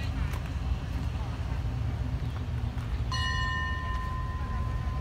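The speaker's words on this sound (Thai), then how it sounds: "กำลังเคลื่อนตัวนะครับออกจากสถานีรถไฟบ้านโป่งนะครับ" Ordinary passenger train 252, Prachuap Khiri Khan to Thonburi, pulls out of Ban Pong railway station with a steady low rumble; about three seconds in, a sustained ringing tone, like a bell or horn, joins and holds to the end.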